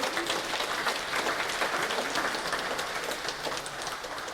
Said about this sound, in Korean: 여러분 박수 한 번 더 주시기 바랍니다